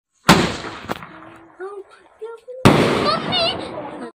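Two sharp, loud firecracker bangs go off outdoors in a village at Diwali, the second followed by a lingering crackle, with people talking between the blasts.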